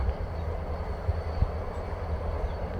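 Train departing in −30 degree winter weather, a faint, distant low rumble of rail cars with a couple of soft thumps, steady and heard from afar without talk.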